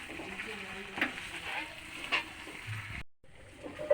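Chili powder and ginger frying in oil in a pan, a soft sizzle with light stirring scrapes, briefly cut off near the end before resuming.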